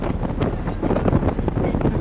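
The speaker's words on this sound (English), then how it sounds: "It's very windy. Yeah, that's my mic." Heavy wind buffeting a microphone, a loud continuous low rumble with gusty surges throughout, no voices.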